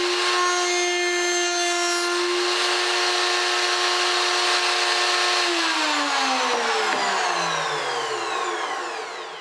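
A router on a router table trims the edge of a plywood disc cut for a disc sander, a loud steady high-pitched whine that winds down in pitch toward the end as the motor spins to a stop.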